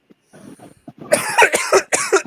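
A person coughs in a quick run of harsh bursts, close and fairly loud, after a quieter stretch of low murmuring at the start.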